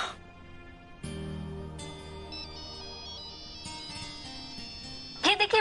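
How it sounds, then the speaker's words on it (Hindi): A phone ringtone plays a bright electronic melody, continuous for several seconds, ending with a brief clatter. "ये देखिए बुआ जी, राहुल भैया का फोन।"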